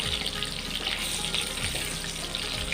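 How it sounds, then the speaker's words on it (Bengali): Thin chicken strips sizzle steadily in hot oil, a dense continuous crackle with a few faint low scrapes underneath, close and even throughout. "এটা একদম মুচমুচে ভাজা হবে"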